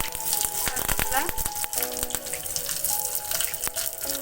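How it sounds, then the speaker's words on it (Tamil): Mustard seeds splutter in hot coconut oil for a jackfruit seed curry, crackling and sizzling with sharp pops and a few metallic clinks, close and fairly loud. "கடுகு போட்டு தாளிச்சுக்கலாம்."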